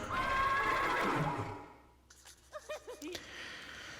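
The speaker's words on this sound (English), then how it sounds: "The equestrian club will have a horse by any means necessary." Horse whinny in the video game Wintermoor Tactics Club, a loud, drawn-out neigh that fades, followed by a short sequence of small chirpy, wavering tones, with no talk over it.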